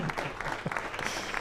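Brief burst of scattered group clapping, moderately loud and steady for a moment, with no voices over it.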